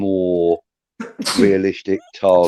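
A single sharp sneeze bursts out in the middle of a casual conversation between men, set close and loud among the talking voices.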